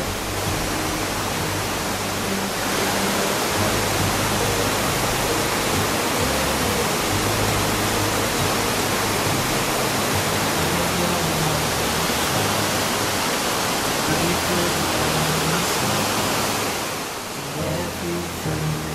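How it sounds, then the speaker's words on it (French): The Rouget waterfall in the Alps near Sixt Fer à Cheval, plunging about 90 metres, roars as a dense, steady wash of falling water that fills the whole stretch without a break. "arriver à cette impressionnante cascade qui culmine à 90 mètres"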